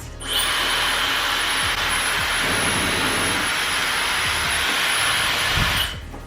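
A Dyson Supersonic hair dryer roars steadily at close range, a loud airy whoosh with a high whine, switching on and off after several seconds.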